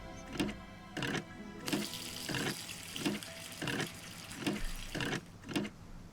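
Hand pump in a Nancy Drew video game, Ghost Dogs of Moon Lake, drawing water with about eight evenly spaced, squeaky rhythmic strokes, each a short burst with gushing splashes in between, fairly close and clear with no talking.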